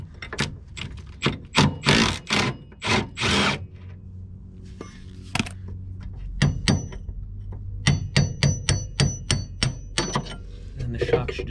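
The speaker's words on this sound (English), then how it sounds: "These bolts right here are 19 millimeter, same with these. So I'll just grab my impact and get these shocks out of here." An impact wrench removes 19 mm shock absorber bolts on a VW Beetle. It fires in a cluster of loud rattling bursts, pauses, then delivers a quick series of short, sharp hammering bursts up close.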